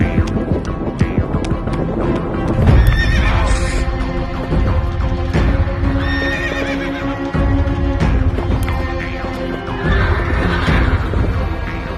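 Several Karabair horses whinny and neigh amid a busy outdoor din, with hooves clopping underneath and a steady wind-like rumble throughout.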